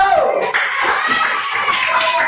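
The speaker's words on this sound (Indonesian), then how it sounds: "Tepuk tangan untuk kelompok 1." Classmates clap for a student group in a classroom, a steady burst of hand claps with a voice heard over the applause.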